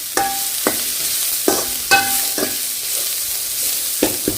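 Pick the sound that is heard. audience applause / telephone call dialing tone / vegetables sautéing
vegetables sautéing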